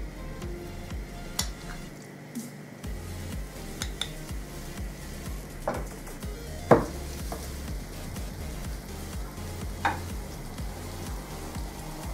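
Chopped meat cutlets fry in oil in a hot pan with a steady, quiet sizzle, broken by a few clinks of utensils against the pan.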